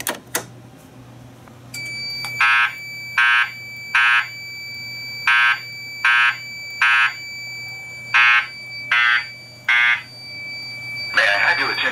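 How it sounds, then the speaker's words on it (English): A building fire alarm sounds during a system test, with a loud electronic horn pulsing in a steady rhythm of about ten short blasts. A high tone rings continuously underneath. "we can go ahead and pull the fire alarm"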